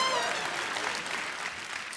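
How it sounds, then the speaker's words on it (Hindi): Studio audience applause on an Indian TV comedy talk show, a dense burst of clapping that stays loud and steady throughout with no voices. "इनके लिए जोरदार तालियां हो जाए"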